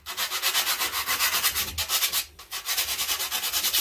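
Sandpaper rubs back and forth over a carved wooden bass body for a fish mount, a steady rhythmic scratching in quick strokes, close and fairly loud, with one brief pause midway.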